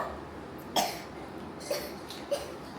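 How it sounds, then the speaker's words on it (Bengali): A child gives three short coughs, spaced about a second apart, fairly close over a quiet room. "ঢং করে কাশতে থাকো"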